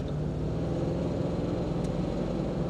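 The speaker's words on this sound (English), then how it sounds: "It's smooth and relaxed, and you get that lovely V8 burble." Range Rover V8 engine with a low, steady burble that holds even and unbroken throughout, a relaxed idle or cruise rumble heard up close.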